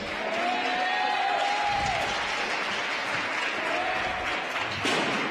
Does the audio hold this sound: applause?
yes